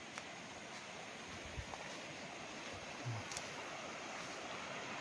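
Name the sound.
river flowing along property boundary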